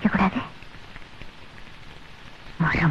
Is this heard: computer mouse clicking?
no